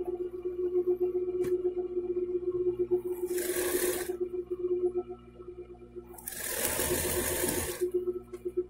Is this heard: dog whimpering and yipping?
no